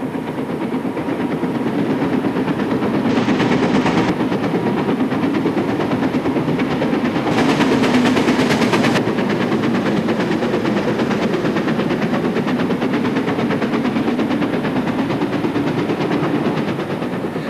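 The steam locomotive Duchess hauls a Sunday train out of Paddington toward Bath and Bristol, with a continuous loud rolling rumble and faint wheel clatter, brief hissing surges breaking through twice.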